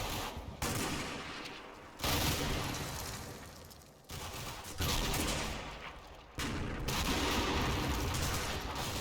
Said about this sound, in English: As GIs respond with the ping of mortar rounds